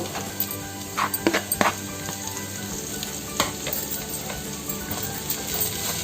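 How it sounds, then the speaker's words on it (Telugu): Carrot shreds and microgreens frying in a pan, a steady close sizzle with a few clattering stirs and taps of a utensil early on, no talking over it. "జస్ట్ ఒక హాఫ్ మినిట్ దీన్ని ఫ్రై చేస్తే సరిపోతుంది"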